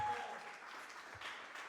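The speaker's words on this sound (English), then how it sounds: "Give a round of applause for Michael, everybody" A comedy-show audience gives brief, moderate applause, a soft continuous patter of clapping that carries on evenly.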